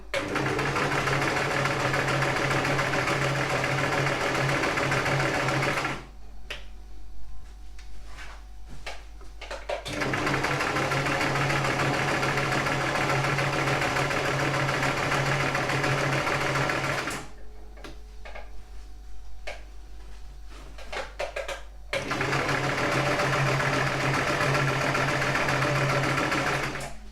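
A sewing machine runs in long, steady bursts while stitching a straight seam on a bag, its close mechanical whir stopping twice for a few seconds of near silence before starting again.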